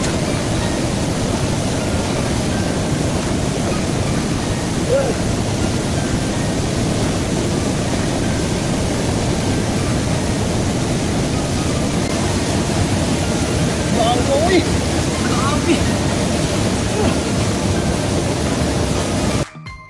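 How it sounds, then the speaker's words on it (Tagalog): The first waterfall, White Tanguro Falls, roars as a dense, steady wash of falling water, loud and close and unbroken for the whole stretch before cutting off abruptly at the end. "Yan na to diri sa unang falls, White Tanguro Falls."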